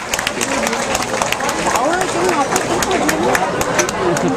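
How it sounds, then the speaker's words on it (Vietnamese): Applause for a beauty pageant winner at a community gathering: dense, sustained clapping from a crowd, with a speaking voice and murmurs running underneath. "Xin quý vị một tràng pháo tay thật lớn cho Hoa hậu Trung Ngọc Như Thi."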